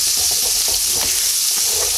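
Butter melting in a hot pan used for pork chops, hissing and sizzling loudly and continuously while a utensil scrapes and stirs the browned bits at the bottom.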